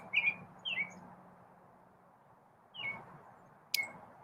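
A small bird chirps on a quiet morning, a few short bright calls in two pairs with gaps between them, fairly close, over faint background hum.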